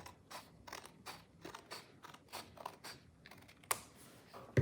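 Scissors cut through three stacked sheets of paper down the middle, a steady series of crisp snips at an even rhythm, close and quiet, ending in a sharper clack with no voices.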